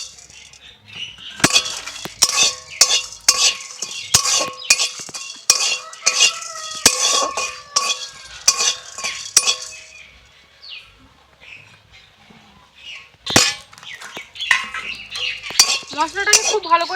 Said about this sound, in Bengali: সেই গোটা মশলাগুলোকে একটু ভালো করে ভেজে নেব